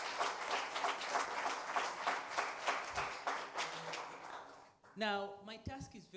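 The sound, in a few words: audience applauding the conference participants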